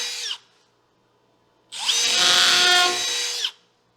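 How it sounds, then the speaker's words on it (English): A power drill bores pilot holes in wood for screws while bracing a fish tank: a short loud whir, a pause, then a longer sustained high-pitched drilling run that ends abruptly. Close and loud, with no talking. "Drill yourself a hole before you send a screw so you don't bust out the ends."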